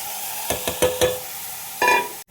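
Mutton cooking in a pan as garlic and water go in: a few sharp splashes and stirring scrapes set off brief sizzling bursts, then a louder hiss of steam near the end, close and alone without talk.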